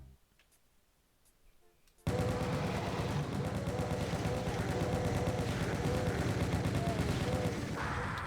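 Chaingunner enemy firing in Doom 2 on a Dark World map, a loud, rapid, continuous burst of machine-gun fire that kicks in abruptly after a quiet start and rattles on without pause.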